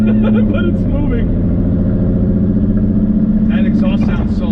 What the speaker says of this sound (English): That exhaust sounds so loud though.